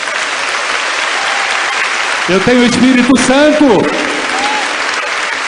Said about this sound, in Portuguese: Uma salva de palmas para Nossa Senhora.